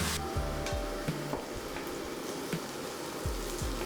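Onions for a vegan shepherd's pie caramelizing in a pan, a soft, steady sizzle broken by a few scrapes and taps of stirring, heard close and alone.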